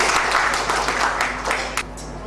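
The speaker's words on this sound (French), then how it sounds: "Sous vos applaudissements également." Audience applause at a health caravan presentation: a crowd claps in a moderately loud, uneven patter that thins out toward the end, with a few isolated sharp claps.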